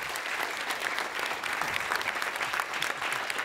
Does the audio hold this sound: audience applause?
yes